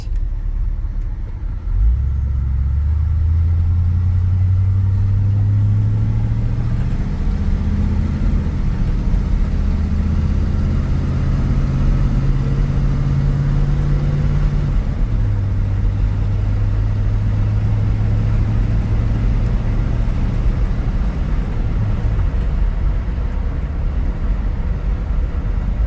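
A 1964 Ford Galaxie 500 drives along with a loud, steady engine rumble and road noise inside the cabin, its low engine tone rising and shifting between gears over the stretch.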